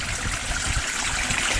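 Water trickles and flows steadily nearby, a soft continuous burbling wash without pause, fairly quiet and alone.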